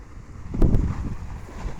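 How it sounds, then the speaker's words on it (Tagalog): Strong wind buffets the microphone in low rumbling gusts, with one louder burst near the start. "ayan, lakas ng hangin no?"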